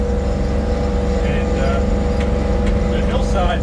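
An LS MT232 tractor engine drones steadily from inside the cab, a loud, even mechanical hum while someone talks over it.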